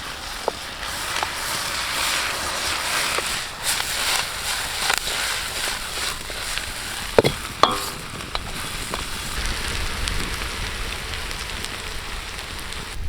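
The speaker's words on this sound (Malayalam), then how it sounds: "ഇനി നമുക്ക് ഇതൊന്നുകൂടെ വഴറ്റിയെടുക്കാം എല്ലാം കൂടെ." Onion, green chili and curry leaves being stirred and sautéed in a pan for a Kerala-style beef heart fry, a steady light sizzle with scraping stir sounds and a couple of sharper clinks, no talking.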